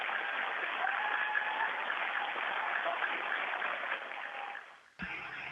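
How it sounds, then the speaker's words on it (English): An audience at a space centre event gives a sustained round of applause, a steady even roar of clapping that fades out near the end before a brief new sound cuts in. "And a round of applause as well, please."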